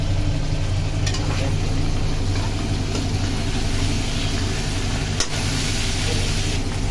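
Whole spices tempering in hot oil for a fish-head mashkalai dal sizzle in a steady, loud, continuous hiss, with a low hum underneath and a brief clatter partway through.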